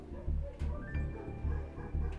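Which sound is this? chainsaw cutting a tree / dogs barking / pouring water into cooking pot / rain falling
dogs barking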